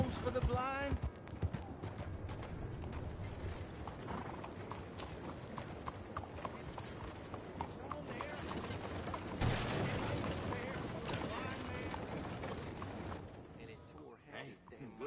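Horse hooves clip-clop steadily through a busy Red Dead Redemption 2 town scene, mixed with mechanical clanks and background chatter, with people talking over the hoofbeats throughout.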